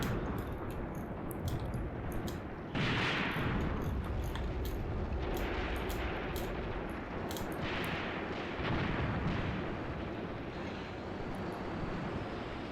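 Artillery fire in the combat game Graviteam Tactics, set on the Luga Line at Peleshi: a continuous deep rumble of distant shelling with scattered sharper reports, fairly quiet, swelling a few times, with no talking.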